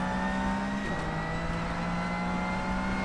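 Race cars in rFactor 2 at the 12 Hours of Sebring drone along with a sustained engine tone that shifts pitch as the car accelerates, steady and moderately loud, with no talk.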